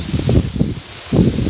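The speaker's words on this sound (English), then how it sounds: "Wind's blowing quite hard at the moment." Strong wind gusting outdoors, blustery rushing and buffeting in two close bursts with a brief lull between, loud and near.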